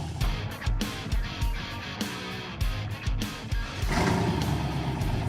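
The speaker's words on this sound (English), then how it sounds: "We're gonna go do burnouts." Engine of a 1966 Corvette revving hard in repeated loud bursts during burnouts, a deep throbbing roar rising and falling close by with no talk.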